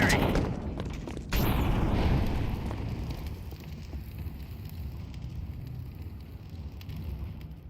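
Incendiary grenade from Counter-Strike 2 bursting close by with a sharp whoosh, then a steady, loud crackling roar of flames that lasts throughout, fading slightly toward the end.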